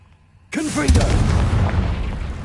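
Confringo fire spell blast in the wizarding game Hogwarts Legacy, a sudden loud boom that starts after a short quiet lead-in and rolls into a roaring, rumbling tail, with a spoken voice over its onset.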